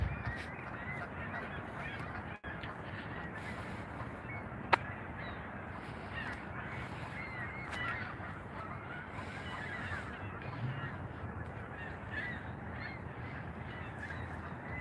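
Canada geese honk intermittently at a distance in an open industrial waterfront area by old railroad structures, faint against steady outdoor ambience, with one sharp click partway through; no talking.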